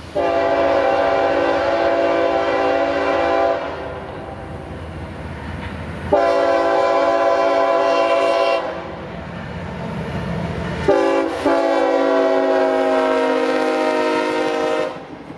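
A freight train running from Jacksonville to Chicago, with two GE locomotives in the lead and a mid-train DPU, rolls past near Folkston, Georgia. It gives several long, loud horn blasts over the steady rumble of the moving cars.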